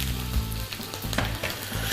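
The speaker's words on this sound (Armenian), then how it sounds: "Լոբին տապակում ենք այնքան, մինչև ջուրը քաշի" Beans frying in a pan with oil, giving a steady, close, continuous sizzle with crackles and the scrape of stirring, with no voices.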